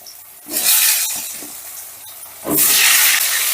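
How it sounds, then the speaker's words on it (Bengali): Cut potatoes hiss and sizzle in hot oil with salt and turmeric, the loud frying swelling as they are stirred around the pan, close up with no talk. "মিশিয়ে দিয়ে আমি আলুগুলো ভেজে নেব।"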